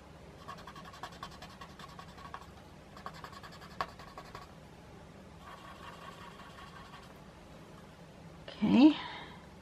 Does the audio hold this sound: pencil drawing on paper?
yes